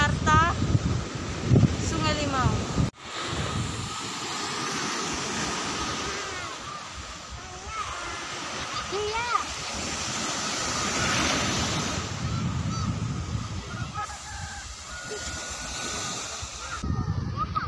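Surf breaks and washes up on Arta beach in Pariaman, West Sumatra, a loud continuous roar with wind buffeting the microphone, while someone talks over it.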